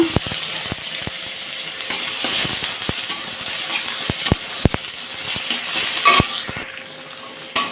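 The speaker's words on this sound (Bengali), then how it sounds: "তো পেঁয়াজটা আমি সুন্দর লাল লাল করে নিচ্ছি একদম" Chopped onions fry in a pan of hot oil, giving a steady close sizzle and hiss with repeated sharp clicks from stirring throughout; no one speaks.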